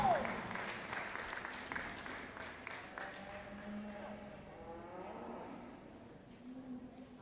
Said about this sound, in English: Let's give those young ladies and all of our senior FFA showmen a round of applause